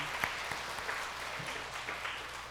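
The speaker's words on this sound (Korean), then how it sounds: "우리 박수하겠습니다" Congregation applause in a church Sunday worship service, a steady, moderately quiet wash of clapping hands with a few sharper claps standing out, no voices over it.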